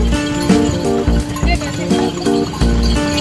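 A horse pulls a delman carriage around town, its hooves clip-clopping in a steady rhythm close by, while an adult and someone talk over the sound.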